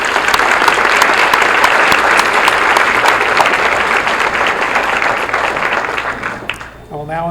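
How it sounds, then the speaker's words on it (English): An audience at a college honors recognition banquet claps loudly and steadily for the honorees. The dense applause fills the room, then thins and fades near the end. "And a round of applause for these honorees"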